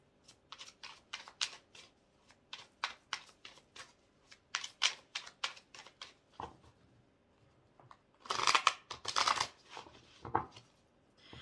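Tarot cards are shuffled repeatedly in quick riffling bursts, crisp and close, with a louder flurry of riffles toward the end.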